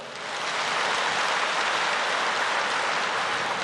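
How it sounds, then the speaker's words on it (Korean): A church congregation breaks into applause during a sermon, a dense, even wash of clapping that swells quickly and holds steady and loud to the end. "여러분은 지금 박수를 치시지만"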